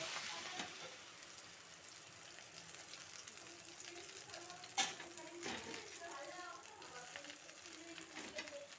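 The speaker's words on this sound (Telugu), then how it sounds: "నూనె కాగింది కదా మనము ఆరబెట్టుకున్న గోంగూరని శుభ్రంగా తీసి నూనెలు వేసుకోవాలి" Dried gongura leaves fry in hot oil, a soft continuous sizzle with scraping stirs and occasional sharp clanks from the pan, fairly quiet and steady throughout.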